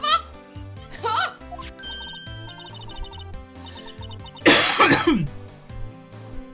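A character in the video game Phoenix Wright: Ace Attorney chokes on food with a burst of harsh, sputtering coughs partway through, set against looping game music and chiming jingle sounds.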